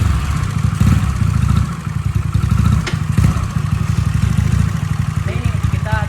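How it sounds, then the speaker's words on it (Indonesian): A Yamaha Mio Smile scooter with a modified exhaust idles up close, its loud, steady, rapid engine putter running throughout with slight dips, while a voice can be faintly heard. "kita akan tes sound dulu ya motor ini seperti apa untuk knalpotnya, suaranya kita akan tes sound dulu"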